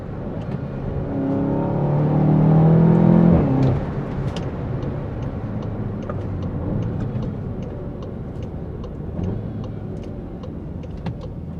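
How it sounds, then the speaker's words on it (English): A 2016 VW Golf 7 GTI Clubsport with a free-flow exhaust revs up loudly in the opening seconds, its engine note rising and then cutting off, before settling into a steady, quieter engine drone. "I mean, this free flow exhaust, it's only this car and the TCR that sound like this."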